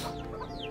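Chickens living in a rural home give a short burst of close clucking, a quick run of soft calls.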